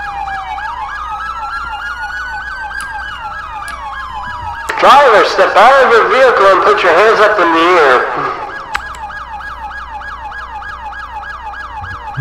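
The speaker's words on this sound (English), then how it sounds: "Let me shut my siren off here." Police car siren in the San Andreas multiplayer game, a loud wailing yelp cycling steadily near the listener, broken midway by a burst of louder noise and a spoken command, then resuming its repeating wail.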